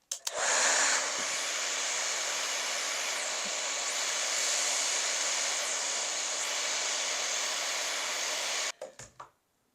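A hair dryer blows hot air onto a sticker on a candle jar, giving a loud, steady whooshing whir close up that runs for about nine seconds and then cuts off with a few clicks.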